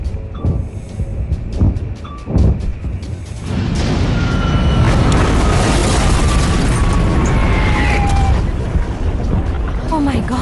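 A deep fire-and-explosion rumble from the movie Flight 914 swells into a loud, sustained roar after a few scattered bursts and booms, with voices speaking over the early part.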